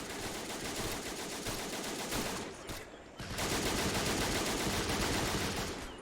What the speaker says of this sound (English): more machine guns firing off